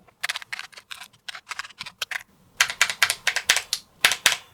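Keys clack on a restored BBC Model B computer keyboard in irregular bursts of sharp, close, loud clicks, with a brief pause midway before a quicker run of heavier strokes.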